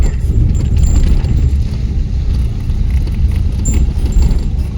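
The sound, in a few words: car arriving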